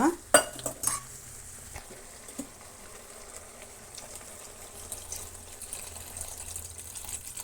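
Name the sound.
water added and stirred in pan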